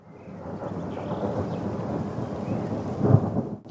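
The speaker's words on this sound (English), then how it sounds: "the incessant background noise caused by the heavy rains" Heavy rain pours steadily with a low rumble of thunder swelling near the end, a dense continuous wash with no voices.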